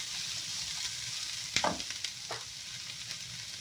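Onions fry toward golden in a pan for a cabbage and spring onion stir-fry, a steady close sizzle broken by a few scraping stirs of a utensil, no talking.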